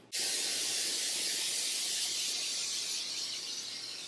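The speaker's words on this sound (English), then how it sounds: "We're going to spray the pan entirely." Pam non-stick cooking spray sprayed onto a waffle maker: a single steady aerosol hiss that starts abruptly and holds for about four seconds, close and alone, fading slightly toward the end.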